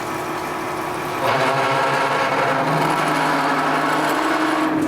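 A lathe drills a hole with its two-speed tailstock fed in low gear, a steady mechanical whir with a tonal hum that grows louder after a second and holds constant.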